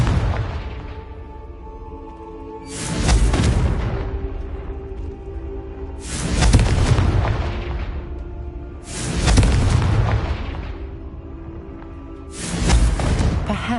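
Confringo fire spell explosions in a video game, four loud booming blasts spaced a few seconds apart, each with a whooshing burst and a fading rumble.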